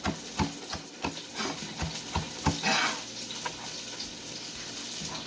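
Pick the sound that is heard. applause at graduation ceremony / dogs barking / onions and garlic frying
onions and garlic frying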